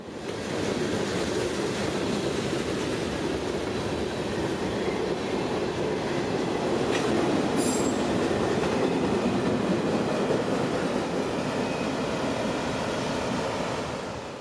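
A long, steady rumbling roar of a freight train passing at midnight in Orlando, Florida, continues at constant loudness throughout, with rattling wheel noise and a brief high squeal midway.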